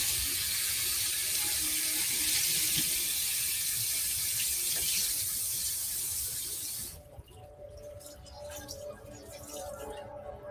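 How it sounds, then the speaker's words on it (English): Tap water runs steadily into a bathroom sink during a face rinse, a loud broadband rush for about seven seconds that then cuts down to quieter dripping and faint splashing. "One more rinse."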